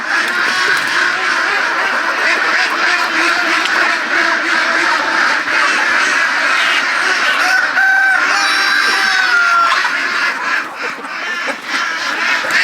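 Several egg-laying chickens cluck and murmur close by inside a winter hoop house, a busy, continuous chorus, with occasional louder squawks rising above the flock.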